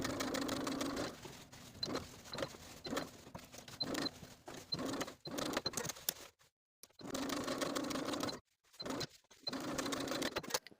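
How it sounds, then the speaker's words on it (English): A sewing machine edge stitches along a pants seam from top to bottom, running in short rapid bursts of clattering stitches separated by brief pauses and stops, close and moderately quiet, with no talk. "We're just going to edge stitch from top to bottom, catching that seam as we go."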